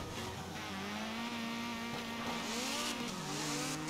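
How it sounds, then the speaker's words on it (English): Front-wheel-drive Ford Fiesta drifting in Forza Horizon 4, its engine holding a steady, loud rev that climbs and dips while the car slides, with a faint tire scrub underneath and no talking. "Drifting a front-wheel drive Fiesta"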